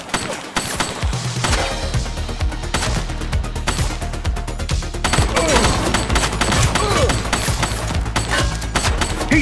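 Sustained gunfire fills a police shootout in the video game The Precinct, with rapid overlapping shots and bursts running throughout over a dense, steady background, with faint voices at points.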